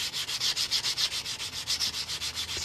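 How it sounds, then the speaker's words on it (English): A silver coin ring is sanded by hand in quick, even back-and-forth strokes, a close, rhythmic scratchy rasp repeated about a dozen times with no talk. "You can go ahead and sand it again."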